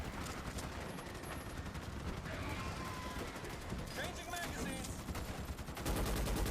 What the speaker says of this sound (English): I am burning through ammo at a scary rate